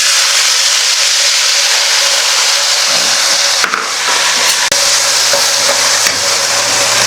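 Dried manathakkali berries (vathal) frying in a pan, a loud, close, continuous sizzle and crackle with a few scraping stirs of a wooden spatula and sharp knocks partway through.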